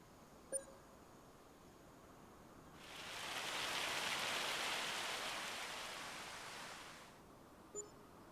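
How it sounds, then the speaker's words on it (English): Rain and hail in the video game Farming Simulator 25 swell into a steady broadband hiss that builds, holds for about four seconds, then fades, with a couple of faint short clicks at either end. "Man, it is like hailing now."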